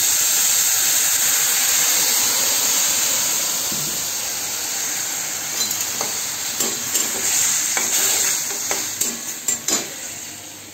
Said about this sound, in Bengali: ছোটো মাছ ভাজা হচ্ছে